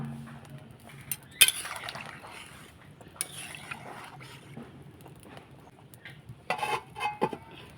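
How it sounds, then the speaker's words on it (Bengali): A utensil stirs Hilsa fish curry with elephant foot yam in a cooking pot, giving sparse scraping clinks and a few sharper knocks against the metal over a quiet kitchen background. "এখন আমি ভালো করে একটু নেড়ে চেড়ে কষানো তুলে রাখা মাছগুলো দিয়ে দিচ্ছি"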